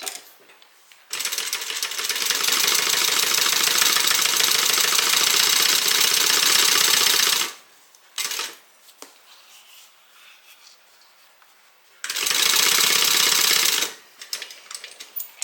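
A sewing machine stitching a leather bag, running in two loud, even bursts of rapid mechanical clatter separated by a quiet pause with small handling knocks.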